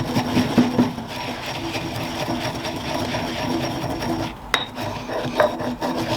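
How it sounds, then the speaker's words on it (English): Coriander and cumin seeds are crushed and ground, likely in a mortar, giving a continuous gritty rasping rub with a couple of sharper knocks partway through and no talking. "I'm just looking at bashing them up just to release some of that flavour"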